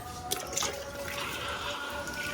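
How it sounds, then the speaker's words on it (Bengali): Water is poured onto a newly planted tree outdoors, a steady splashing trickle with a few small drips, fairly quiet and continuous. "যখনই গাছ লাগাবে একটু জল দিয়ে দেবে"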